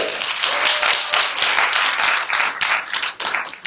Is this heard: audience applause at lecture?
yes